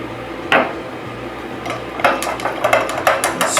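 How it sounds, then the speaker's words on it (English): A bourbon cocktail with agave nectar and chocolate bitters being stirred in a glass, giving a run of light clinking and tapping knocks that thicken toward the end. "Stir that up."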